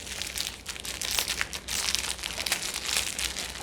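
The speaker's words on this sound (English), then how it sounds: "can I get the inner bag out here? No, because it's still taped over here." An inner plastic bag is tugged out of packaging, giving loud, continuous crinkling and crumpling close to the ear without a break.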